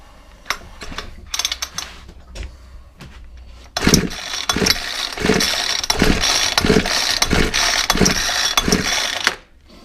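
A Ryobi 4-stroke string trimmer engine being pulled over, with scattered mechanical clicks first, then a loud run of rhythmic pops and cranking bursts as it briefly fires up close by, ending abruptly.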